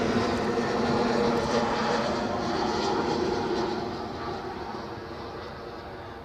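British Airways Embraer jet arriving at Edinburgh from London City, a steady distant engine roar that gradually fades over several seconds, with no voices.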